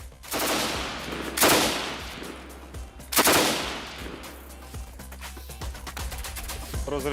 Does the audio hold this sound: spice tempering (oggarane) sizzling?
no